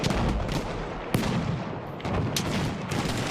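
An AT rocket gun fires amid dense, booming battle noise in Battlefield 1, with sharp blasts at intervals over a continuous roar of gunfire and explosions.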